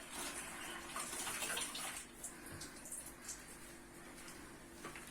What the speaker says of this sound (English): First step, we want to wash the rice.